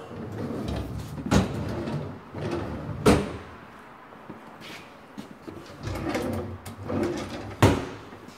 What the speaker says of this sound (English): drawer not opening, drawer broken in kitchen, screwed shut.